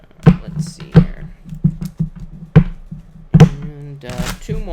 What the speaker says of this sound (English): And 2 more shuffles here